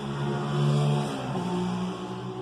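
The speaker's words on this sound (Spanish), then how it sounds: "perdón por la moto" A motorcycle engine drones past outside, a steady mid-loud hum that swells briefly and then fades, heard on its own.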